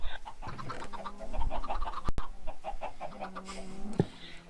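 Chickens cluck repeatedly in a Minecraft-style chicken fighting pit, a busy overlapping run of game clucks and squawks with a sharp click partway through, fairly close, no talk.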